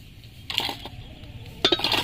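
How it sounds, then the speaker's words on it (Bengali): A metal plate is set into a wok that has been heated under a lid, making a couple of brief metallic clinks and clatters, close and alone. "এবার আমি থালিটা কড়াইয়ের মধ্যে বসিয়ে দিচ্ছি।"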